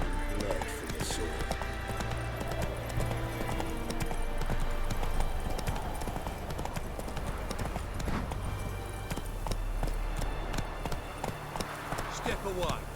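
Roach, the horse in The Witcher 3 video game, gallops with a rapid, steady clip-clop of hooves close by, running throughout while characters talk over it.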